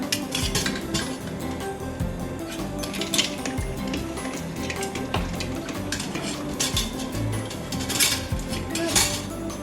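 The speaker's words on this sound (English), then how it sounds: "We're going to go ahead and get these eggs out." Hard-boiled eggs from an Instant Pot being moved into a bowl of cold ice water, with close clinking, knocking and sloshing in quick irregular bursts.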